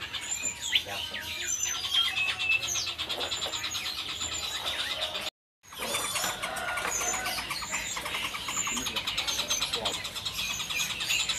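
A nuthatch, the rambatan, calls in a busy bird market stall with high, repeated squeaky notes, other birds chirping around it; a brief dropout interrupts the sound midway before the chatter resumes.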